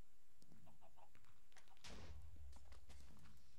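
Chickens in a Minecraft Block Hunt pen give a few faint, scattered clucks, with soft blocky footsteps and a brief louder thump midway, all quiet and close.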